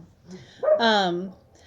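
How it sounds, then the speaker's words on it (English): A single drawn-out dog bark or howl-like yelp from outside rises clearly for about half a second, slightly distant, with quiet room tone around it. "Sorry for the barking outside."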